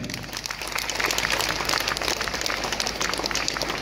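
A crowd of parents claps for an actor and mimicry performer at a speaking event, giving dense, steady applause that holds at an even level throughout, loud and close.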